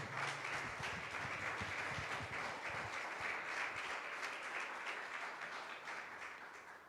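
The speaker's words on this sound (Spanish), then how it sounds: "Denle una ofrenda de palmas con todo su corazón." Congregation at a Sunday communion church service applauding steadily, a dense wash of clapping that holds for the whole stretch and fades slightly toward the end, with no talking over it.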